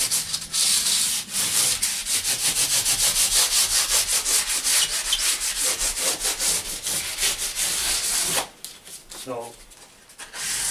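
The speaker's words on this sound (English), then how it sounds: "It doesn't need too much, as long as you give it a sand." Hand sanding the flat surfaces of Lloyd Loom woven furniture, a steady rhythmic rubbing scrape of abrasive strokes close to the microphone that runs for most of the clip, then drops away near the end.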